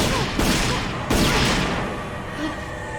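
Video game gunfire in dense, loud bursts, with two sharp onsets followed by a sustained roaring barrage that slowly fades.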